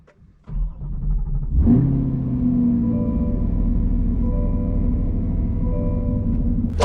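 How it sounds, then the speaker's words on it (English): A 2020 C8 Corvette with an AWE exhaust cold-starts, heard from inside the cabin with the windows up: a starter whir, a sharp flare of revs, then a loud, steady, rumbling idle. "You guys don't know a lot about what the AWE system sounds like inside the car"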